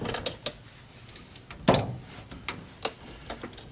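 Socket wrench working on the differential of a Suzuki Carry DA63T truck during an oil seal replacement, giving a few sharp, close ticks and metallic clicks with one louder creaking burst, spaced irregularly in a quiet setting.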